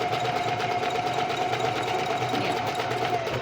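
A sewing machine stitches fabric while underwear is being made, giving a steady, close, continuous mechanical hum and rapid needle chatter with no pauses.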